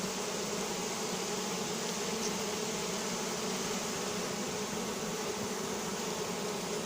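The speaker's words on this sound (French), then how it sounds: "j'ai bien secoué la branche, mais il reste encore des abeilles" A honeybee swarm in Viry-Châtillon is shaken off a branch into a cardboard box, giving a loud, dense, steady buzz of many bees that fills the whole stretch with no voices.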